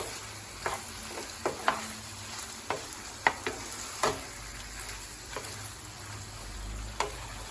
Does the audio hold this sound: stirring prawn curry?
yes